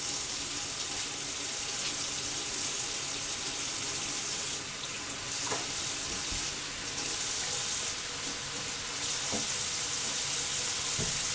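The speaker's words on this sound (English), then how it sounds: "And I'm just browning the roast." Chuck roast browning in a pan, a loud, steady sizzle of searing meat running throughout with faint clinks now and then.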